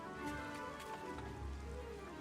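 Rain falls in Disney Dreamlight Valley, a faint, steady patter on surfaces under soft tonal game music, with occasional brighter drip accents.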